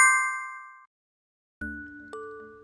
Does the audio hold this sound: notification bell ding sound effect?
yes